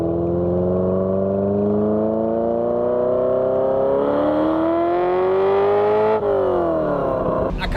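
Ferrari engine after a rebuild, running smoothly without misfiring, with a loud, steady tone that climbs gradually as revs build, then drops briefly and picks up again near the end.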